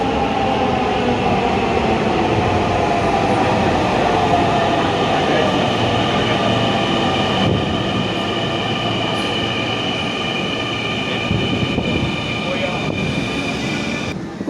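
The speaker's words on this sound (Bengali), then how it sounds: "তো আমাদের কাঙ্ক্ষিত রেল চলে আসছে, অ্যান্ড আমরা এখানে প্রবেশ করছি" A metro train pulls into a station with a loud, continuous rumble and high wheel squeal that holds steady for the whole stretch.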